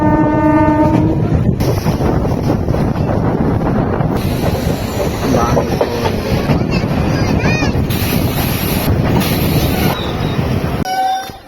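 The 08659 Adra-Asansol MEMU special train pulls into Burnpur station, its horn sounding at the start over a loud rolling rumble and wheel clatter, with voices heard amid the noise.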